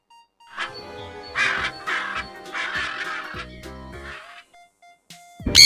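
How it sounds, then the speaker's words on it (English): A parrot squawks in a few harsh, raspy calls between short pauses, close and fairly loud, with other tones sounding among them. "P for parrot."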